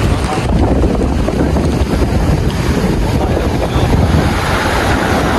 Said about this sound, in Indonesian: Ombaknya besar sekali